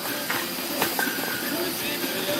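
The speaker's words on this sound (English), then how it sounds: "It's raining." Steady broadband hiss of rain falling, continuous and fairly close, with a few faint clicks and thumps scattered through it.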